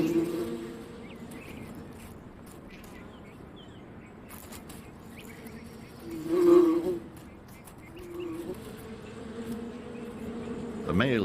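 A low buzz from a swarm of bees hovering over their nest site in the Sonoran Desert drones steadily, swelling louder in the middle, with faint bird chirps scattered through the background.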